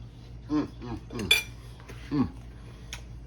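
A utensil cutting into a fluffy ham and cheese omelette on a plate, giving a few separate clinking scrapes against the dish, close and fairly quiet.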